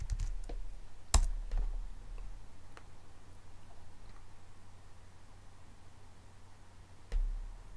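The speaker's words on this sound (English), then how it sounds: "So let's go to our terminal and just type in rake db migrate." A few faint, sparse key clicks on a computer keyboard as a terminal command is typed, set against a quiet room hum with no talking.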